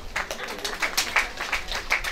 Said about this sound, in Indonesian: Tepuk tangan kecil Jo.